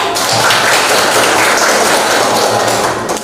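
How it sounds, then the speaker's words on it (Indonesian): Applause from a classroom audience in a teacher training session, a dense, steady clatter of many hands clapping at close range for about three seconds with no voices over it. "tepuk tangan dulu"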